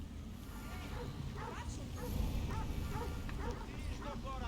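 A dog in a video game barks and whimpers in short repeated yelps over a constant low rumble, with a voice talking in between.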